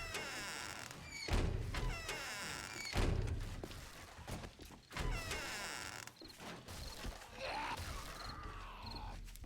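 A small zombie horde in 7 Days to Die makes guttural groans, creaks and heavy thuds that swell and fade, with rising moaning calls and a few sharp ticks near the end, all fairly quiet and without talk.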